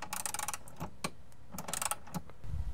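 A 13 mm ratcheting wrench turns a bolt on a 2010–2015 Sea-Doo with iBR, producing close, quick runs of ratchet clicks in several short bursts separated by pauses.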